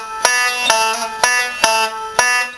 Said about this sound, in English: Then hit the open string and it'll sound like this.